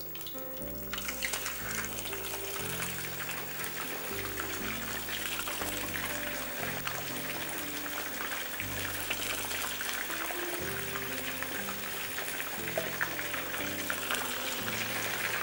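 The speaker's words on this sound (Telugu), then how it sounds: "ఎంతో కుతకుతలాడుతున్న నూనెలో ఈ వెజిటబుల్స్ రెడీ అవుతున్నాయి" Vegetable pieces for Veg 65 deep-frying in very hot, bubbling oil, giving a steady close sizzle and crackle that runs throughout, with faint music playing underneath.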